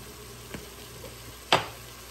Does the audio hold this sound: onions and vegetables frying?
yes